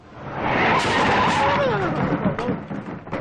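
A car whose brakes have failed skids with a loud, swelling tire screech that rises quickly, holds and then wavers and fades toward the end of the skid.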